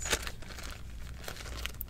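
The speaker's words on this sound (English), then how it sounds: "I do keep it in a plastic bag" A plastic bag holding a purse item crinkles softly and close, with a sharp crackle near the start and lighter rustles scattered through the rest, no voices.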